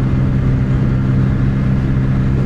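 Bajaj Pulsar N160 motorcycle engine while riding at night, a loud, steady low drone with wind rush, close and continuous throughout with no talk.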